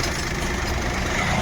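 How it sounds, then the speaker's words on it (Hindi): A Maruti Suzuki WagonR sits idling in a workshop after a general service with a new clutch, brake pads and air filter, its engine giving a steady, even hum that stays close and constant throughout. "और गाड़ी भी स्टार्ट रखा है"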